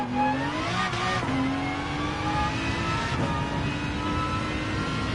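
Race car engine in Gran Turismo 7 holding a steady high drone, with quick upshifts that briefly drop the pitch before it climbs again, loud and continuous with no talking.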